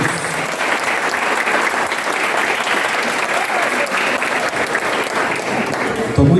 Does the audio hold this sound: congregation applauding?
yes